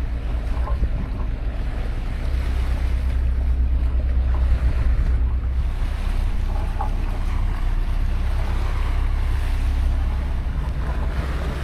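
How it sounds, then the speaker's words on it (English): From a small boat on open water near port, wind roars across the microphone over steady wave and hull wash while a large MSC container ship heads out past, a dense continuous rumble with no talk. "Big MSC container ship about to go past."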